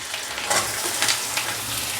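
Vegetables go into hot oil for an elbow macaroni breakfast dish, giving a steady, loud, close sizzle of frying that holds evenly throughout with no voices.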